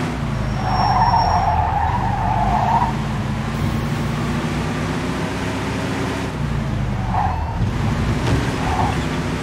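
A speeding car skids and its tires squeal during a chase in Mafia II, with a long screech early on and shorter squeals later over a steady engine roar, loud and close.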